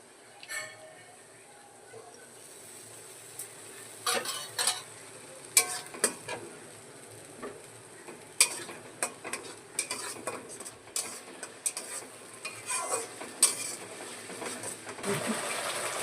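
Ground spices sizzling in hot oil in a frying pan with fried egg and potato, a spatula scraping and knocking against the pan in irregular bursts over a soft continuous hiss; a voice speaks quietly at times.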